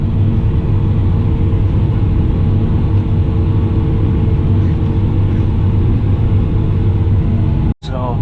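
A Fendt 1050 tractor ploughs with a steady, loud engine drone and low rumble that runs unbroken, cut by a brief sharp knock near the end.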